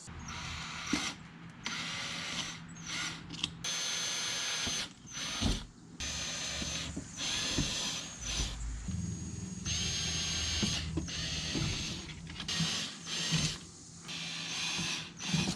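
A power drill with a 1/8 inch bit whirs in repeated bursts into the rear bumper of a C7 Corvette, starting and stopping with short pauses, with mechanical rattling close by.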